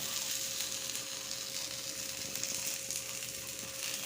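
Steady, close sizzling of a traditional wheat roti frying in oil, a dense crackling hiss with no talking.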